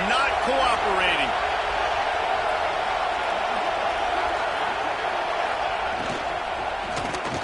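A loud stadium crowd roars in the College Football 26 video game, with a dense, unbroken wall of cheering and noise that stays strong throughout, while a commentator talks over it.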